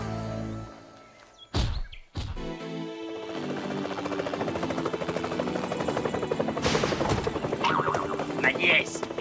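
A helicopter's rotor chops loudly and steadily after a couple of sharp sounds at the start, the thumping continuing close and unbroken.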